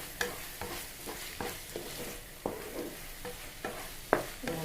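Squid fries with garlic in a pan, a steady sizzle punctuated by repeated scraping stirs of a spoon against the metal, close up and with no voices.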